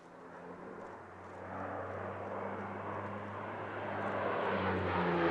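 An ex-German Air Force Transall, now used for aerial firefighting, flies past at the Warbirds over Scone airshow, its steady propeller-engine drone humming and swelling gradually louder as it approaches, with no talk.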